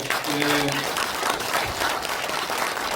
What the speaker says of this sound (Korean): 우리 또 순천대 우리 총장님 여기까지 오셨는데 여러분 큰 박수 한번 보내주세요